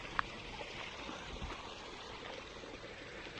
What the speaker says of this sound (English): Got a little creek that runs through the property here.